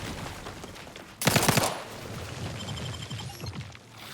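A phonotron weapon fires in The Outer Worlds 2 as one loud, dense half-second burst, standing out over quieter combat sounds and background noise.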